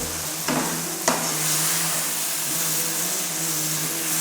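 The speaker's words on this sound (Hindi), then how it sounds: "अब इस सबको अच्छे से मिक्स कर लेंगे।" Ground spices with coriander, cumin, crushed red chilli and garam masala are stirred and fried in a pan, a continuous close sizzle with a couple of sharp scraping knocks early on.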